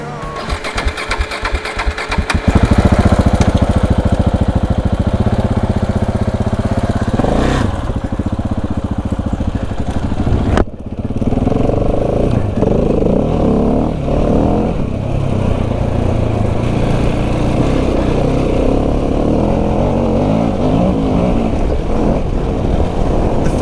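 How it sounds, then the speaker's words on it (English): A KTM 690 Enduro R single-cylinder motorcycle starts with rapid cranking pulses, then settles into a loud, raw, steady idle close by. There is a brief sharp blip midway, and no talking. "The first thing I notice when I start up my KTM 690 is the rawness of the engine."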